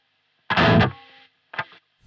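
A burst of distorted electric guitar through a Horizon Devices Precision Drive noise gate cuts off sharply into near silence, followed by a short second strum that is also clipped quickly, leaving no hiss between.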